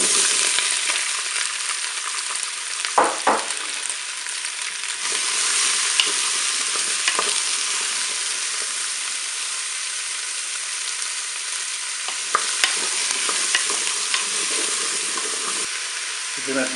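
Zucchini pieces sizzle steadily in the pot of a Cookeo multicooker, a continuous close frying hiss with a few soft clicks and stirring knocks, alone without voices.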